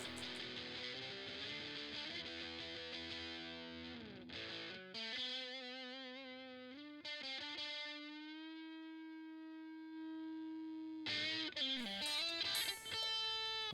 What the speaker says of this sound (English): Next we have the Boss DS1 Distortion.